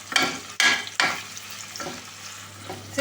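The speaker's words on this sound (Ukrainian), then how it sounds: "І коли м'ясо прожарилося до золотистої скоринки, всипаю туди цибулю і буду її тушити." Onions tipped into a pot over golden-browned fried meat, stewed uncovered for a potato and bean stew: scraping, stirring clatter and a few sharp knocks over a steady low sizzle, close and fairly loud, with no talking.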